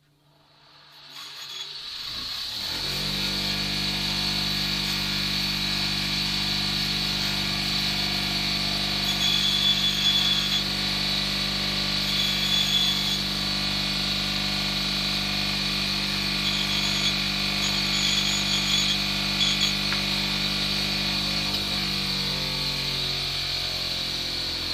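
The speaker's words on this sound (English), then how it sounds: "I'm just going to use the abrasive wheel, and I'm just going to tidy these edges up slightly" An abrasive wheel tidies the edges of a lightweight screen mount. A motor spins up over the first two seconds into a steady whirring hum, then runs on continuously with a faint, varying scrape. It sounds close, with no voice.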